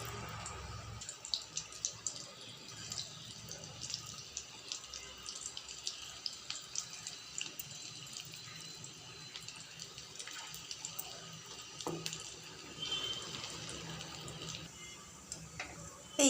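Chicken pakora pieces deep fry in hot oil, producing a faint, continuous crackling sizzle with scattered small pops throughout.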